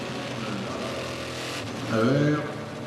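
A race car with a 7-litre engine accelerates out of a corner during the 2006 24 Hours of Le Mans, its roar swelling loudly near the end beneath continuous race commentary.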